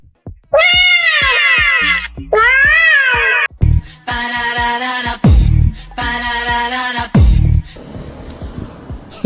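A cat meows loudly and repeatedly at close range, several drawn-out, rising and falling cries with short gaps between them, and no talking.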